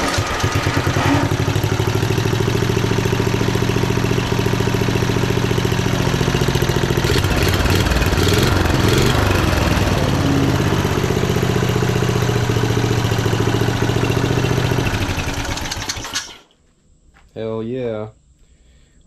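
A Briggs engine on a budget racing lawn mower built from junk runs loud and close with a steady, buzzing drone for about sixteen seconds. It then cuts off abruptly, and a brief bit of talk follows.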